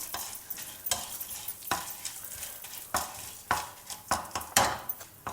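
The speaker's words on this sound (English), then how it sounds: "Allow the dals to roast well and change color to a golden brown." Chana dal, urad dal and dry red chillies, including Bydagi chillies, being stirred as they roast in a pan: a steady soft sizzle broken by repeated scraping strokes of a spoon, close and alone.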